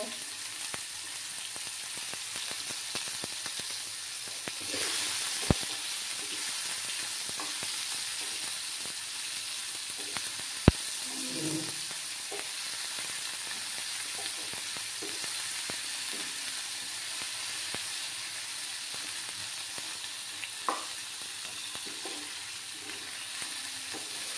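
Ginger and green chilli paste fries in a pan with a steady, close sizzle and hiss, broken by a few sharp clinks of a utensil stirring against the pan.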